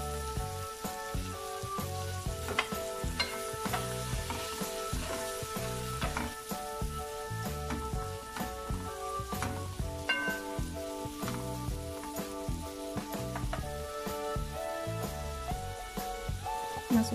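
Sliced onions fry in a pan, producing a continuous crackling sizzle with scattered pops and occasional stirring scrapes, with tonal background music underneath.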